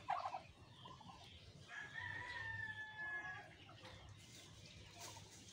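Rhode Island Red chickens crowing and clucking among ducks in a backyard, a drawn-out crow in the middle over a steady hum of faint clucks and outdoor noise, fairly distant and low in level.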